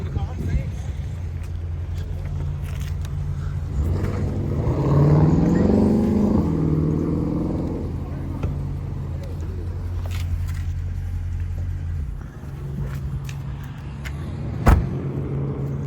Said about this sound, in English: Let me turn my goddamn car off.